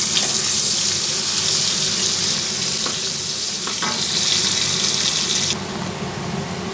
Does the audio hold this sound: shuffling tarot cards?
no